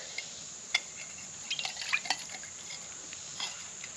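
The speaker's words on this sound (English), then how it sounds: "is dip some of that water out of there." A canteen cup dips water out of a container outdoors, giving faint drips, trickles and light glassy clinks at scattered moments against quiet background hiss.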